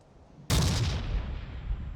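A sticky bomb explodes on a tank in the video game Forgotten Hope 2. After a faint background hiss comes a sudden loud, broadband blast that rumbles on and fades slowly.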